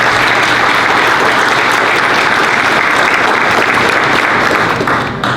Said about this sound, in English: Can you guys give them applause?